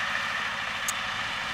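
An MTZ-80 tractor engine drones steadily while mowing hay in a low, wet field, a loud continuous rumble with no break or speech.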